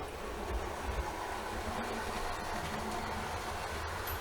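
A model railway camera train running on a home layout, a continuous low rumble and whir with faint clicking, steady and fairly quiet, with no voices.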